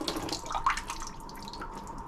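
Leftover water being tipped out of the motor housing of an Oase BioMaster Thermo 25 aquarium filter during cleaning. It makes a short, close splash and trickle that pours briefly and then tails off, with no talking.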